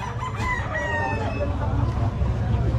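Chickens and ducks for sale at a poultry market in Lemery, Batangas: roosters crow and birds cluck loudly nearby over steady background market noise.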